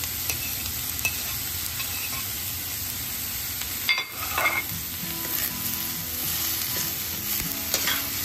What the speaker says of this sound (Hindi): आता ह्याच्यामध्ये आपण दोडके घालून घेऊ